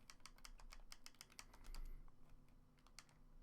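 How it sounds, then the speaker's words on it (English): Quick bursts of keystrokes clatter on a computer keyboard, close and crisp, in an irregular rhythm with short pauses between runs. "Let's just type it right in."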